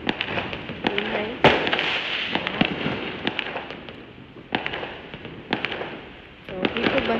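Firecrackers and fireworks burst during Chinese New Year festivities, sharp loud bangs scattered irregularly with crackling bursts in between, some near and some farther off, with faint voices in the background.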